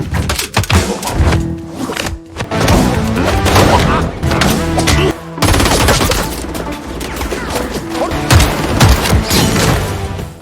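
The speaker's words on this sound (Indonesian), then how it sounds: "Saat Cheol-sung tengah baku tembak" Heavy gunfire in a film shootout inside a hotel full of enemy agents, loud volleys and machine-gun bursts mixed with booms, crashes and thunks under a busy action score.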